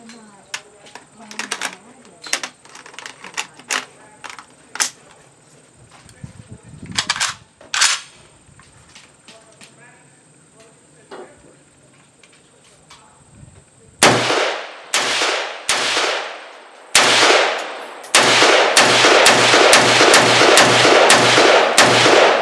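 A Ruger Mini-14 A-Team rifle fired outdoors, scattered single cracks and distant pops early on, then loud close rapid shots in quick bursts and a fast string of repeated fire toward the end, with some talk between.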